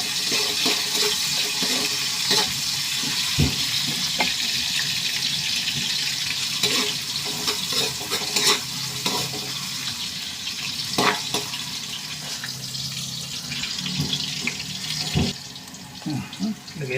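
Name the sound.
ginger sautéing in a pan for tinolang manok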